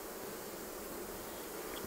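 Honey bees from a wild hive inside an old abandoned car buzz in a dense, continuous swarm, close and steady with no talk.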